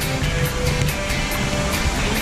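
Waterfall at the source of the Trishuli river near Gosaikunda, giving a steady, dense roar of rushing, splashing water heard up close with no voices.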